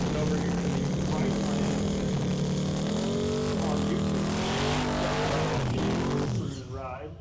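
An old-school big-block Ford F-150 pickup and an LS-powered pickup rev and roar at a no-prep drag race, their engine notes rising and falling loudly, with an announcer talking over them.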